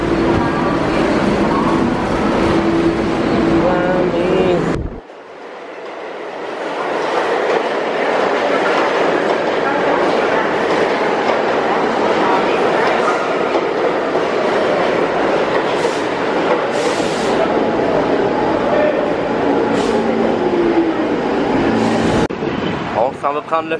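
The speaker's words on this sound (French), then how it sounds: "Regardez s'il est beau le métro." A New York subway train rumbles and clatters along the tracks, loud and close, with screeching and rattling throughout and a sudden shift in sound early on; people talk over it.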